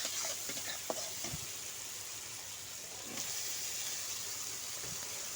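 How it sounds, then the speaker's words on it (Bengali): Potatoes poured into a pan of frying fish, giving a steady sizzling hiss with a few soft clunks and stirring knocks early on, quiet and close. "এবার আমি এর মধ্যে আলুগুলো ঢেলে দেব।"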